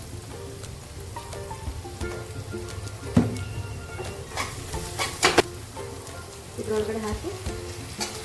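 Rice seasoned with turmeric and salt fries in a pan for lemon rice (chitranna), with a soft sizzle and sharp scraping stirs and clinks, while a voice speaks briefly.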